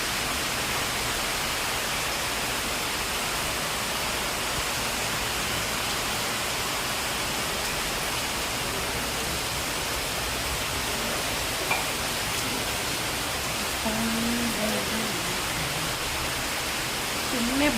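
Heavy nonstop rain pouring down with no wind while potted plants sit out in it, a dense, unbroken roar of water filling the whole stretch, with a faint voice briefly surfacing near the end.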